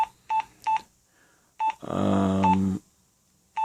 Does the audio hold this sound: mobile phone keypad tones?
yes